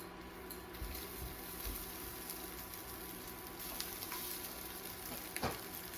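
Rice sizzling and frying steadily in a pan over medium heat, a continuous close crackle with occasional louder pops and stirring sounds, no voices.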